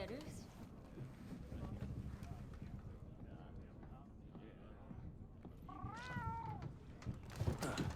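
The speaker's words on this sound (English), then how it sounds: "Adorable kitty cat." A cat gives a clear, wavering meow near the middle of the clip, heard up close under a faint, low rumble of background noise.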